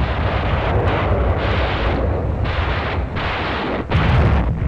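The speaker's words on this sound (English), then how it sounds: "Rockets join the softening up process." Ships' rockets fired in a shore bombardment before an amphibious landing in the Korean War, a loud continuous roaring rush with repeated surging blasts, dense and unbroken throughout.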